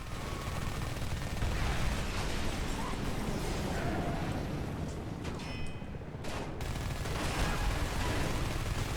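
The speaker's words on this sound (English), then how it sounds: "I know how to fire a goddamn mounted machine gun, man" A mounted machine gun on a Humvee in the Homefront video game fires over a dense, rumbling barrage of gunfire and explosions that runs steadily throughout.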